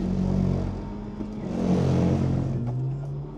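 A drifting car, number 36, spinning out. Its engine roars and wavers in pitch, surging, easing off and then rising again, loud and close, with no talking.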